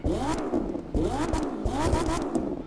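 A car engine in a video game turns over and runs in repeated surges, each burst rising and falling in pitch like revving, close and fairly quiet.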